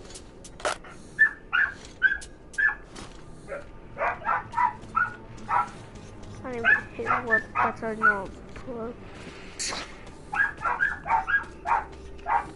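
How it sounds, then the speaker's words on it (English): Several dogs bark, yip and whimper in short bursts across the scene, fairly close and loud, while someone talks in between. "When can my dogs ever shut up?"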